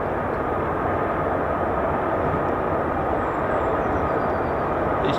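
C-17 military transport aircraft at RAF Lakenheath, a dense continuous jet engine roar with heavy low rumble, loud and steady without pause.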